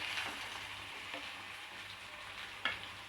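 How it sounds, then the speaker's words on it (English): Crushed ginger and garlic sizzle steadily in a hot pan while cooking chicken fry, with a couple of sharp stirring clinks and no talk. "now I am adding ginger and garlic"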